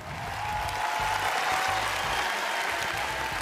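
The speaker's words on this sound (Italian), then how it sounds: "Vai, applausi!" Steady crowd applause, a dense sustained clapping sound effect from trading simulator gameplay, running loud and even throughout with no voices.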